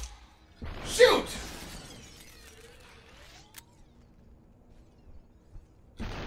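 A thrown bottle shatters in the video game SUPERHOT: one sharp, loud glass crash near the start, then quieter game noises and a brief impact at the end.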